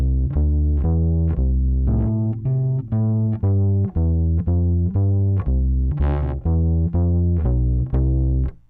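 Bass guitar run through the saturation side of a Strymon Deco tape saturation pedal, playing a steady line of plucked notes with a slightly fuzzy, thickened edge, close and loud with no talking.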